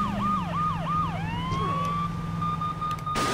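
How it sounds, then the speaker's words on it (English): A police car siren in the video game Saints Row 2, a loud rapid wailing yelp that shifts into a long rising wail over a steady engine drone, ending in a sudden burst of noise. "I got sirens and all kind of shit."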